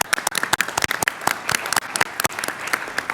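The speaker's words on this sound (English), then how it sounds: "I would like all of us to give our visiting teams a round of applause for their presence here." An audience at a conference opening session gives the visiting teams a short burst of brisk, fairly close clapping, rapid and uneven, with no voices over it.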